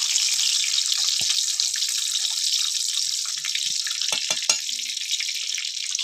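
Whole garam masala and bay leaves fry in hot oil with a steady bright sizzle, close and continuous, broken by a few small pops and clicks.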